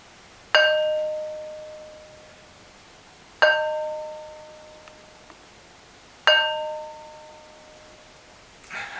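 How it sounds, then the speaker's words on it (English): A heavy stone of about 15 kilos, struck three times at slow, even intervals, rings out like a bell each time with a clear sustained tone that fades slowly. The strikes are close and isolated, with no talk over them. "Demonstration how these stones ring like bells"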